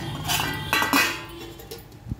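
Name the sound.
lid being put on a cooking pot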